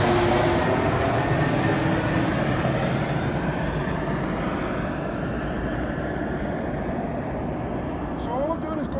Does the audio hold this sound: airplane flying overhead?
yes